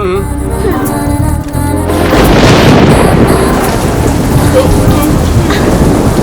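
Heavy, loud rain pours down steadily while deep thunder rumbles underneath, dense and close.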